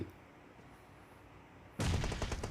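Gunfire in PUBG Mobile opens after a quiet stretch as a sudden loud burst of rapid shots, a dense rattling volley that continues to the end.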